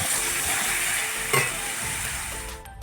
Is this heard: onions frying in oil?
yes